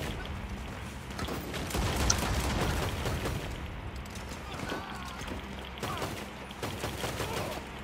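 Explosive rounds go off in a video game as bursts of gunfire and blasts, with rapid shots and impacts that come and go under a dense mix of in-game noise.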